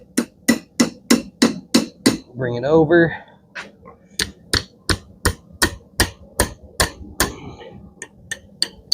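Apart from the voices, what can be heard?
hammering a hot steel hook on an anvil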